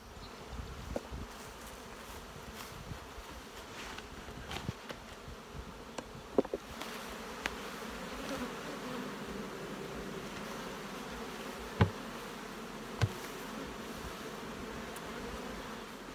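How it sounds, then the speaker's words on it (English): A steady, soft drone of many buzzing honeybees around six-frame nuc boxes fills the background throughout, with occasional faint clicks and knocks, no talking. "My bees aren't made of sugar anyways."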